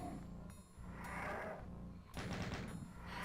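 Rapid plasma rifle fire from Doom 2 blasts at enemies in bursts, loud and close, with a brief pause and then a renewed volley of shots.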